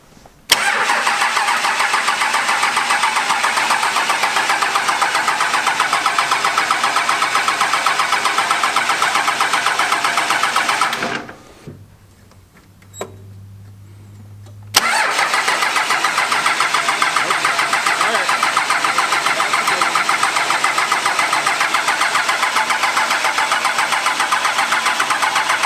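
A 12-valve Cummins diesel engine cranks, catches and runs at a loud steady roar, then cuts out for a few seconds with a brief clunk before firing back up and running on continuously.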